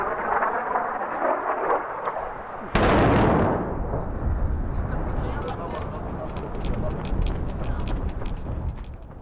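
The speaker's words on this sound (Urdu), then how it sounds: "آپ آسمان میں اسرائیلی جہازوں کی آواز سن سکتے ہیں۔" Israeli warplanes and explosions outside a hospital: a loud, sudden blast-like burst hits early, followed by a sustained rumbling roar of aircraft and distant impacts under background commotion.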